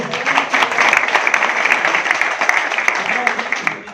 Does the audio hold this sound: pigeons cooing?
no